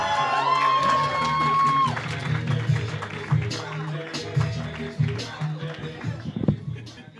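An audience claps and cheers for Todd Braxton, a burst of applause with whoops that builds and then tapers off into scattered claps, with a voice speaking over the start.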